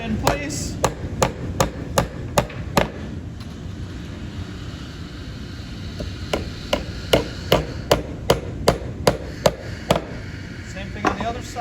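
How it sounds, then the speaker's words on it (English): A hammer taps nails into the pre-drilled wooden sides of a birdhouse, sharp light knocks in quick runs of several strikes, a pause, then another series, over a low room hum. "Take the nails, tap them in place."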